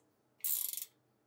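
Ratchet wrench tightening winch bolts on a Polaris Ranger XD1500 winch rack, a single quick burst of rapid clicking, close and sharp, against a quiet background.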